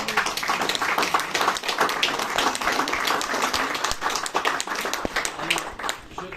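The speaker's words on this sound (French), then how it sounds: "on peut l'applaudir" Dinner-speech audience in a hotel at Fourvière applauding, dense clapping that stays steady for several seconds before thinning slightly at the close.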